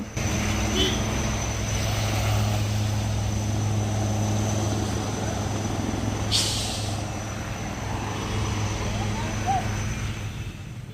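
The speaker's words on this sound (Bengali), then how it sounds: "ওই যে দেখো দূর থেকে আর একটা হেলিকপ্টার নামছে।" A helicopter coming in to land drones steadily from a distance in the Andaman Islands, a continuous rotor and engine rumble, with a brief hissing burst partway through.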